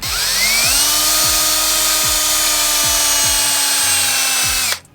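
A handheld power drill spins up and runs steadily at high speed, its whine rising at the start and holding loud and close for several seconds, with rhythmic ticking clicks underneath before it cuts off abruptly.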